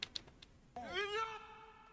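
A cat meows in a video game, a drawn-out rising and falling call that follows two faint short sounds, clear and close with no talk over it.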